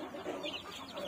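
Free-range native chicks about two to three days old chirp softly in a small brooding box, a faint cluster of high peeps close by with no talking.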